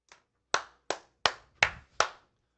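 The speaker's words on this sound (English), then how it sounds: "That's right, I'm applauding." A soccer commentator claps his hands six times at a steady pace, sharp and close, with no talk over the claps.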